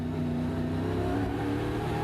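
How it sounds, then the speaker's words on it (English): A V8 race car engine at a Franciacorta motorsport event accelerates hard down the straight, a steady loud, droning roar with rising harmonics holding for about two seconds, alone without talk. "Wonderful soundtrack of that V8 engine propelling itself down the straight."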